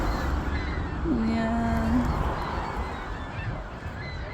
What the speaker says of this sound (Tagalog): Ayan, nagkakagulo yung mga ibon.